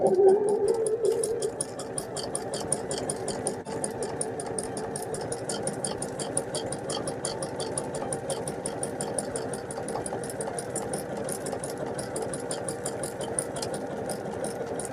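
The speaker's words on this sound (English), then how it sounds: "I'm trying another decorative stitch from my machine to decorate the wreath." A sewing machine runs a decorative snowflake-like stitch on a gingerbread pillow wreath, a fast steady mechanical whir with rapid even needle ticking, close and continuous throughout.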